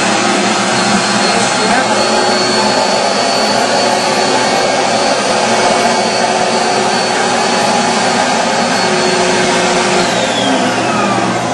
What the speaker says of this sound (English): So we just turn the vacuum on.